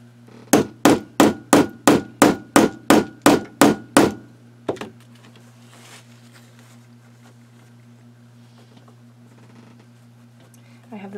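A small hammer strikes a setting tool about ten times in a steady, evenly spaced rhythm, fixing metal eyelets into a denim notebook cover. The sharp, loud knocks are followed by one lighter tap, then quiet room tone.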